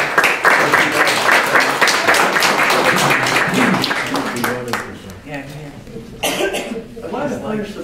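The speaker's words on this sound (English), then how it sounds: "I want to give them a big round of applause." A crowd applauds steadily at a town board meeting with dense clapping and scattered coughs, then the clapping thins out while voices murmur and talk takes over.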